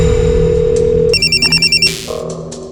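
A telephone ringtone sounds in a tense crime-drama scene, a bright electronic trill repeating in six quick pulses over a sustained background tone before cutting off.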